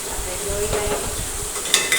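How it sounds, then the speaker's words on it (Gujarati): Ginger garlic paste sautéing in hot oil, a close, steady sizzle with soft stirring scrapes and a couple of light metallic clinks of a utensil at the end. "આદુ લસણની પેસ્ટ સરસ સાંતળાઈ ગઈ છે"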